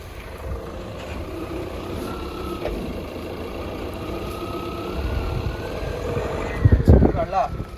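A Tata Intra V50 pickup truck engine runs steadily with a low rumbling drone that rises in pitch as it pulls in first gear, loud and close, with a burst of louder knocking near the end.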